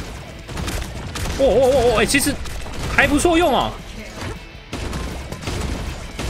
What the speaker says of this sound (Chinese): 他丢过去以后会爆炸